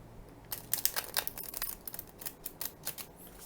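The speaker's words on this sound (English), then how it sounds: "And then one more riffle shuffle," A Lubanko tarot deck of standard tarot size being riffle shuffled close up, giving a quick run of crisp papery flicks and snaps that slows into a few separate clicks at the end, with no voices.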